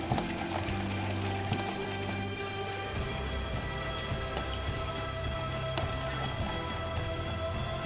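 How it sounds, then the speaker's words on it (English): Spinach and pea pakora battered fritters frying in hot oil, a steady bubbling crackle like light rain throughout, close, with a few sharper pops and no talking. "let's start dropping the pakora in the hot oil"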